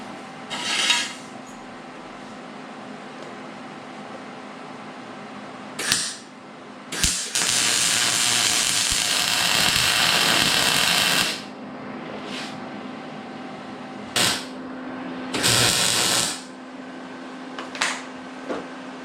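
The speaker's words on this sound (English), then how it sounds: "Might as well film welding it." Welding a rear bumper on a Henry J gasser in a shop, with a steady buzzing hiss from the welder in bursts of a few seconds, the longest running about four seconds, over a constant low hum.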